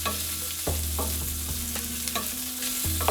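Smoked sausage fries in oil with garlic in a pan, giving a steady, close sizzle along with a few scraping stirs and no voices.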